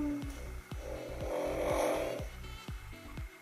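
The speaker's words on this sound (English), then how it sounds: "Even Peenie's snoring" A pet snores softly indoors in a slow, regular rhythm of repeated breaths, moderately close, with a low hum in the background.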